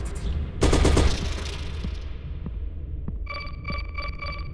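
Machine gun fire in the Shrine II total-conversion mod for Doom 2: a loud, close burst of rapid shots, then a decaying tail with a few single shots and a ringing electronic chime.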